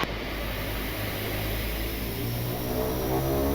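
An Embraer E190-E2 airliner's engines roar steadily during the takeoff roll, heard from inside the cockpit as a loud, even broadband rush with a faint tonal whine and no talk over it.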